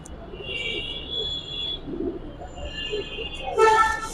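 A silver bagha pigeon coos softly in short low bursts close by, with faint bird chirps and a sharper noise at the end.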